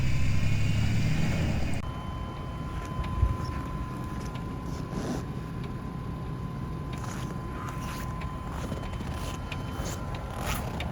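A 1996 Astro Van with two-wheel drive strains to climb out of a parking spot over a concrete berm in -25 cold, its engine droning steadily and loud at close range with a faint whine, no voices.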